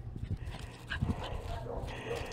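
A pet dog named Lou whimpers and yips in short, close bursts at home, with someone talking over it.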